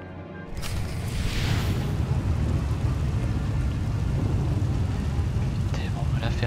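Storm in Star Wars The Old Republic: steady heavy rain fills the whole stretch with a low rumbling thunder undertone, loud and continuous, with a few brief sharper crackles near the end.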